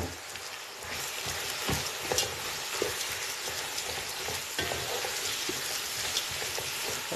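Crayfish and spinach stirred gently in a cooking pot, a soft wet sizzling and crackling with occasional scraping knocks of the spoon, fairly quiet and continuous with no voices.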